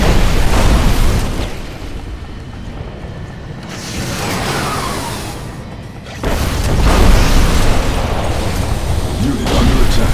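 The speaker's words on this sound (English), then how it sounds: "Bombing run initiated." Bombing run in the real-time strategy game Command & Conquer: Kane's Wrath, a loud, dense roar of blasts and rumbling booms that eases, then surges back with heavy explosions throughout, with brief game voice announcements over it.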